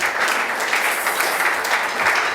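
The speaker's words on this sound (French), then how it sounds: "Est-ce que nous pouvons l'acclamer quand même?" Church congregation applauding and cheering loudly, a steady dense wash of clapping that holds for a couple of seconds with no pauses.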